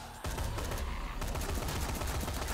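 Gunfire from a gun in the video game Dead Rising 3: dense, rapid shots form a loud continuous rattle that runs through the whole moment and grows sharper partway through.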